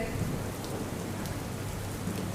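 Steady heavy rain pours down in Dwarka, Gujarat, a dense continuous wash of drops drumming on surfaces, with no voices.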